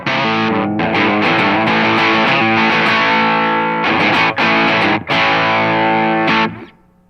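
Distorted electric guitar chords played through a 385 Overdrive MKII pedal, loud and sustained with a few brief breaks before ringing out at the end.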